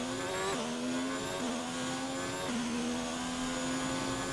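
A Formula 1 car in a racing video game screams through its gears out of the final hairpin, a steady high-pitched engine whine rising with each upshift, clearly audible and fairly close.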